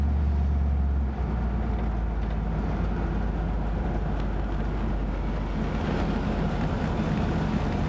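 A 1967 Buick Riviera cruises around town under moderate acceleration, heard from inside as a continuous deep engine and road rumble with a steady level throughout.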